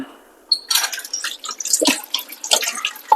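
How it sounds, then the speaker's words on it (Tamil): Tomatoes are washed under a running kitchen tap, giving close splashing, dripping and trickling water in irregular bursts after a brief quiet start. "இப்போ வந்து தக்காளியை வாஷ் பண்ணி நம்ம கட் பண்ணிக்கலாம்"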